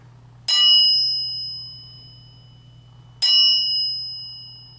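A struck metal bar rings out twice in a resonance demonstration, each strike a bright sharp onset followed by sustained pure tones that slowly decay, over a steady low hum.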